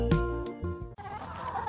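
Farmyard chickens clucking at close range in the morning as they are given the previous night's dinner leftovers, a few short loud calls in quick succession followed by a softer rustling bustle.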